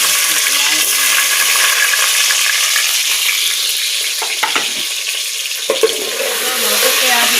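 Onions frying in hot ghee for a mutton curry, a loud, dense crackling sizzle that stays steady throughout, with a few brief stirring knocks toward the end.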